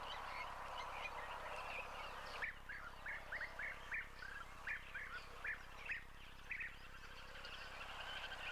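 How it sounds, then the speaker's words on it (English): A European bee-eater calls while flying, giving a series of short, liquid trilling chirps in irregular bursts at moderate distance, heard over a steady hiss of light rain. "just listening to the odd European bee-eater that does call, obviously flying around like this"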